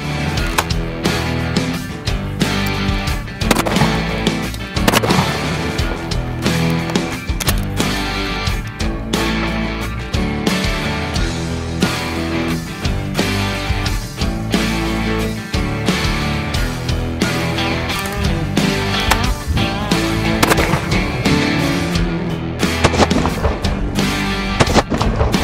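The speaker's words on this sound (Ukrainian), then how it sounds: "вправа полягає в тому, щоб зробити 3 постріли із перезарядкою рушниці" Shotgun shots at clay targets with reloading, heard as a dense run of sharp impulsive bangs and clacks scattered through a long stretch, loud and close with no speech.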